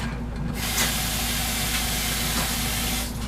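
Water hits a hot frying pan and steam hisses loudly and continuously, a dense close-up sizzle with faint crackles under it, and no voices.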